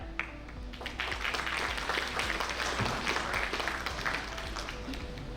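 Audience applause at a Mosaic Spark 2025 stage session, a full, steady round of clapping from a sizable crowd lasting several seconds, fairly close and without speech.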